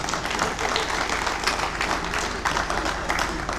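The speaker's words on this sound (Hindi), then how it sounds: "इनके लिए जोरदार तालियां बजाएं" Audience at a national poetry gathering (kavi sammelan) in Bhiwani giving a steady round of applause, a dense, even patter of many hands with no voices.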